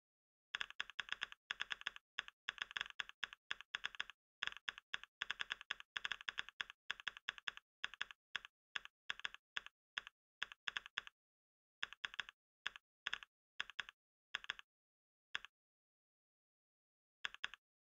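Mechanical keyboard typing, dense and rapid at first, then thinning into sparse separate keystrokes with gaps before a last pair of clicks; close and clean with no talk.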